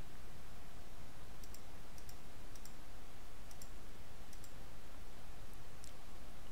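A computer mouse clicks in a quiet room over steady background hiss, with about six short clicks, several in quick pairs, spaced at irregular intervals.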